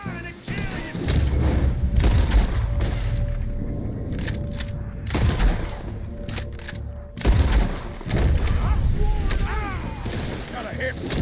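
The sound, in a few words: gunfire in Red Dead Redemption 2 video game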